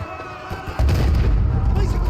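A heavy explosion in Modern Warfare 3 (2023) bursts in with a deep, sustained rumble that swells suddenly and stays loud to the end.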